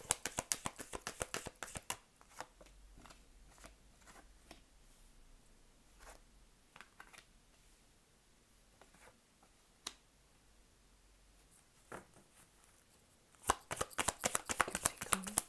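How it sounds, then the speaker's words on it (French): Tarot cards are shuffled close up in a quiet room, with rapid riffling bursts at the start and end and scattered soft taps and slides between. "pendant que je bats les cartes"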